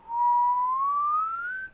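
A person whistles one steady tone that slowly rises in pitch for under two seconds to trigger an Arduino-controlled circuit, close, clear and alone.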